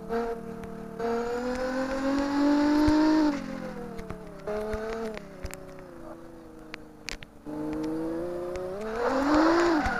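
A car in CarX Drift Racing 2 accelerating hard, its engine note climbing through the gears in repeated rising sweeps with brief dips at each shift, loud and continuous with no talk.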